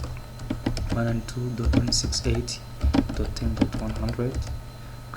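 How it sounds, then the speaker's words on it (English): Rapid clicking keystrokes on a computer keyboard as a ping command is typed into a Red Hat terminal, coming in short bursts with someone speaking over them. "then I type ping"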